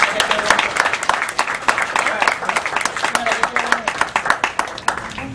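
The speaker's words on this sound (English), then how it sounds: "Everybody give them a big round of applause." An audience gives a round of applause at a workshop attendance awards gathering, a lively burst of close, distinct hand claps that keeps going throughout, with a voice speaking over it.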